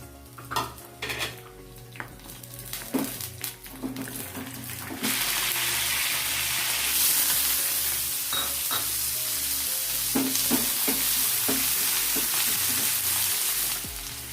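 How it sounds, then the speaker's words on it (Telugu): Cumin and mustard seeds fry in hot oil for a potato fry with a steady, loud sizzle that takes over midway, after earlier clinks and stirring of a pan. "ఇప్పుడు మనం ఆయిల్ వేసుకోవాలి. జీలకర్ర, ఆవాలు, దినుసులు అన్నీ వేసుకోవాలి."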